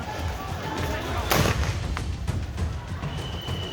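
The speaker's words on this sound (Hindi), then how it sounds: "टीवी स्क्रीन पर देखिए कैसे पुलिस वाले भीड़ को भगाने के लिए आंसू गैस के गोले छोड़" Police fire tear gas shells to disperse a violent protest crowd in Bihar: one sharp, loud launch boom stands out over a steady roar of crowd noise and voices, with fainter thuds following.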